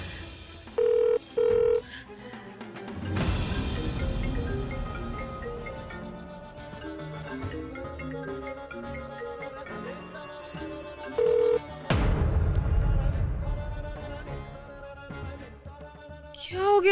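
A telephone rings twice in short tones near the start and again later, going unanswered, over a continuous background music bed in a Hindi TV drama scene.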